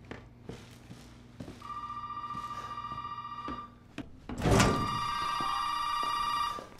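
An old telephone rings in Resident Evil 7, a steady electronic trill repeating over a low ambient hum, then a loud thud and the ringing resumes, closer and louder.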